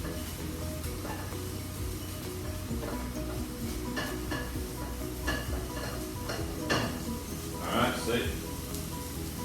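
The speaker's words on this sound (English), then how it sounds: "Just get them all in there, mix them all up." Onions and mushrooms for a beef stroganoff are stirred in a pan, giving scraping, clattering utensil strokes over a steady low sizzle, with a few sharper clinks near the end.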